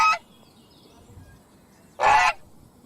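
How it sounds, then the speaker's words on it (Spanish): Geese honk twice, separate loud calls about two seconds apart, with quiet background between them. "Gansos."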